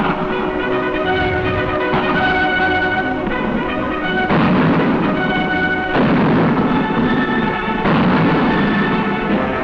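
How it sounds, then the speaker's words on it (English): Mortar barrage pounding a town during a 1944 infantry assault, heard as continuous booming explosions and rumbling fire that swell in sudden louder bursts, dense and loud throughout with no voices. "infantry advance to assault the town as the barrage of mortar fire continues"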